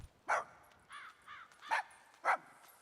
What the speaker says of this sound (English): I bark at them